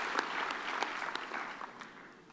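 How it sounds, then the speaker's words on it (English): A graduation ceremony audience claps for the guest speaker, a steady patter of applause from a crowd that tapers off over a couple of seconds. "Round of applause to him, please."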